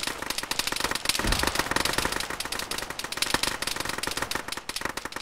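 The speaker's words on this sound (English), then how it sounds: "Get down, mortars are coming!" Dense, rapid gunfire and explosive blasts from a military shooter game under incoming mortar fire, loud and continuous with sharp crackling bursts throughout.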